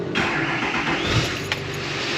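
A 2008 Silverado 6.6 Duramax diesel truck engine cranks slowly on a weak battery, then catches and fires up into a running rumble, close and fairly loud, with no talking.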